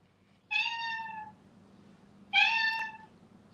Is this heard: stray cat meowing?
yes